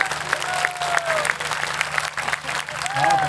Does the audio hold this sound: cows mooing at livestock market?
no